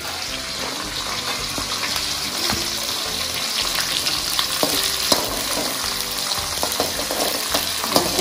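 Garlic and green chillies fry in oil for a hog plum pickle, a loud, close, continuous sizzle and bubbling with scattered stirring clinks against the pan, and no talking.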